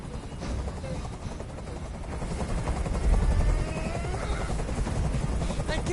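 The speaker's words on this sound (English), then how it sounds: "I can't stand that noise anymore. Tell that helicopter to get out of here." Helicopter in the video game Detroit: Become Human, a steady loud rotor thump and turbine roar filling the whole stretch, swelling slightly midway.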